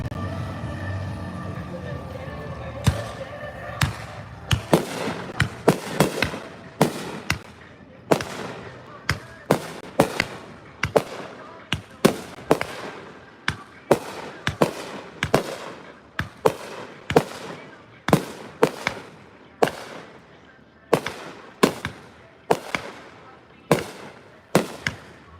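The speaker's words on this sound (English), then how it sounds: "Can you guys see all the smoke from all the fireworks" Fireworks burst at a 3rd of July show, a rapid series of sharp, loud cracks and booms in uneven rhythm that continue for the whole stretch, with people talking between explosions.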